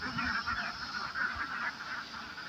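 Ducks quacking and honking in a steady, overlapping chorus, fairly close, with no talking.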